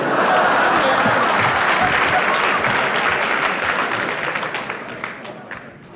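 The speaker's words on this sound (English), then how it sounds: "He started to clap." A comedy theatre audience breaks into sustained, dense applause and clapping, loud and continuous at first, then thinning and fading over the last couple of seconds.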